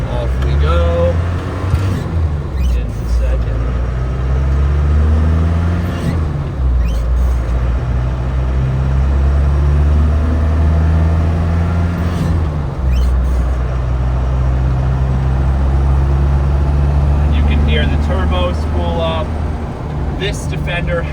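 A 1998 right-hand-drive Land Rover Defender 90 pulls away and shifts into second gear, its engine droning low under intermittent talk, with brief clicks and a dip in the engine note at the gear change.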